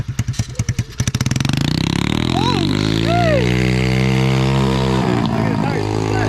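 A Lexus LS400 engine revs hard, rising through climbing harmonics and holding high for several seconds before a drop near the end, with voices talking faintly over it.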